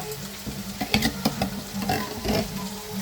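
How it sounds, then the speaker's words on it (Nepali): Canned tomatoes stirred into pork and spinach frying in a pan, with close scraping and stirring strokes in uneven bursts over a soft steady sizzle. "अब टमाटर हालेर चलाउनु पर्छ।"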